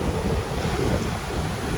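Ocean surf and heavy rain outside a solid concrete house in Antique, Philippines, a steady broadband wash with low rumbling swells and wind, continuous and fairly loud with no voices.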